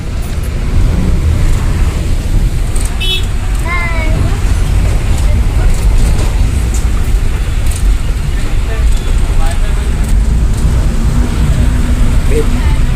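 A vehicle pulls away on a road during a family trip through Konkan, with a steady broadband engine and traffic rumble throughout and voices chatting over it.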